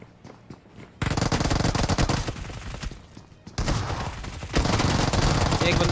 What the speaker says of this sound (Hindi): ये बंदा वहीं पे ही फायर कर रहा है जहाँ पे लिटरली होना चाहिए फायर